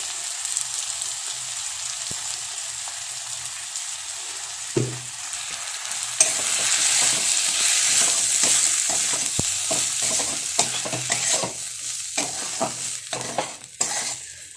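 Semolina (suji) stirred and dry-roasted in a pan for upma: a steady soft sizzle with repeated scraping spoon strokes that grow busier and more frequent toward the end, close and alone with no voices.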